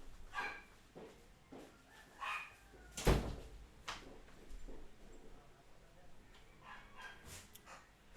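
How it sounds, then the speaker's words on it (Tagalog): Several dogs bark and yip in bursts in a household setting, including one loud close bark, with a faint voice in the background. "ang ingay ng mga aso ko."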